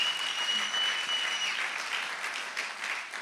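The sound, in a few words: congregation applauding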